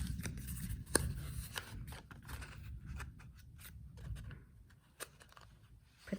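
Scissors cut paper for a gift box in a quiet room, producing soft, irregular snips and light rustling of the sheet, faint and close.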